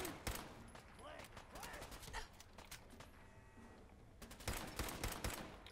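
Pipe rifle shots in Fallout 4 ring out in quick, uneven bursts, fairly faint, with a quieter pause midway before another cluster of rapid fire near the end.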